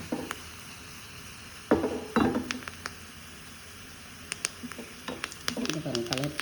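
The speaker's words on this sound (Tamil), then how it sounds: "நல்லா வதங்கினா வாசனையாகிடும்." Vegetables for sambar stirred in a pan: soft scraping and clinks of a spoon against metal over a faint sizzle, with a person talking.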